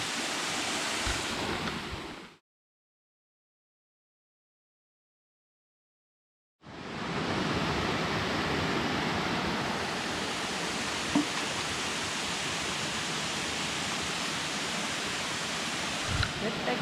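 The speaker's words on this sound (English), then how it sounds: "so the waterfall, I guess, has a lot of trees in it." North east Georgia waterfall roars as a steady, broad rush of falling water, heard up close and continuous, cut off by several seconds of total silence before the same dense rush returns.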